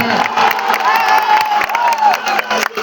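A crowd at a Rashtriya Janata Dal rally cheers, whoops and claps to welcome Akhilesh Yadav, former Chief Minister of Uttar Pradesh. The noise is loud and dense, with shouting voices riding over the applause throughout.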